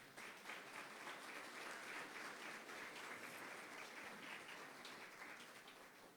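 A church congregation claps together in praise of Jesus, a dense, even wash of applause that fills the room at a fairly low level.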